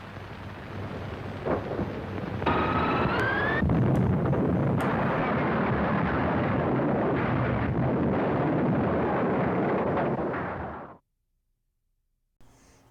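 Missile explosion sound effect: a sustained, loud roaring blast rumble with crackling and whistling streaks, holding steady for several seconds before cutting off abruptly into silence.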